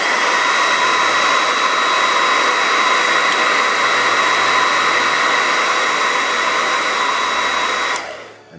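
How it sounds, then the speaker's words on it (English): A hairdryer runs steadily and loudly, heating a part of a vintage Masters of the Universe action figure during leg connector replacement, then cuts off abruptly near the end. "If you're using a hairdryer to heat this part up"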